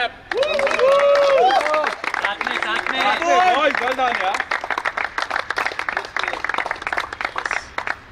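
People clap at an amateur cricket match award ceremony. Voices call out over the first half, then a steady patter of close, crisp applause from a small group continues to the end.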